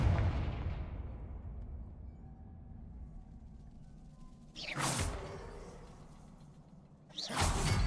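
Confringo, the explosive spell in Hogwarts Legacy, fires off as two loud whooshing blasts a few seconds apart, the first following a long, fading low rumble.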